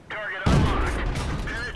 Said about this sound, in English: Start hitting him in this.